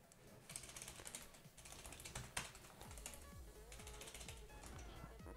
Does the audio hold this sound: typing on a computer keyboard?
yes